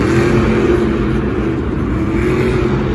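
A monster truck engine roars loud and close during a Monster Jam freestyle run in Indianapolis, a sustained throaty rumble that holds steady for the whole stretch.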